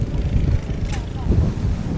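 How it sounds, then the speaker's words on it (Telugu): Wind gusts on Yanam beach, a steady low buffeting rumble right against the microphone that rises and falls slightly and never stops across the whole stretch. "చాలా గాలి బాగా వేస్తుంది ఇక్కడ"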